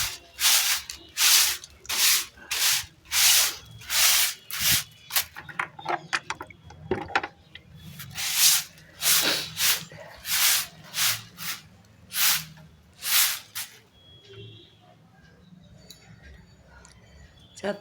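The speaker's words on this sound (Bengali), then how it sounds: "এবার ছাদটাকে ঝাড় দিয়ে নেবো পরিষ্কার করে।" A broom sweeps a house rooftop in repeated rhythmic scraping strokes, loud and close, about a dozen brisk swishes that slow and thin out near the end.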